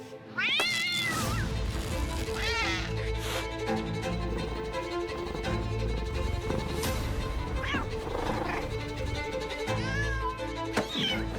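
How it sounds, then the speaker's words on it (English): Several cats meow repeatedly in a video game trailer, rising cries and a yowl over dramatic music, loud and close throughout. "It's a cat and another cat."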